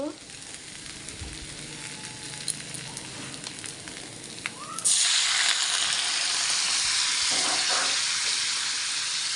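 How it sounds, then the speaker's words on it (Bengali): Spice masala frying in a pan for a fish-head, Malabar spinach and potato dish: a quiet sizzle with light stirring, then water goes in and a sudden loud, steady hiss of steam and bubbling takes over. "জলটা দিয়ে ভালো করে মশলাটা কষিয়ে নেব"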